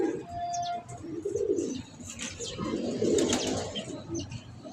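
Pigeons kept by a breeder coo in low, rolling murmurs that overlap steadily throughout, with faint chirps and occasional higher bird calls mixed in at close range.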